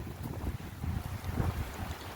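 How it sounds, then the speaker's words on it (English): Strong wind gusts roar and buffet outdoors at up to 80 kilometers per hour, a loud rumbling rush that swells and falls without a break. "Wow, it is super windy. Wind gusts up to 80 kilometers per hour."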